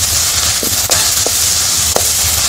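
Onions sizzle with turmeric in a pan for Tamil fish gravy, kulambu. The frying hiss is loud and continuous, broken by a few soft clicks and pops and one or two sharper ticks.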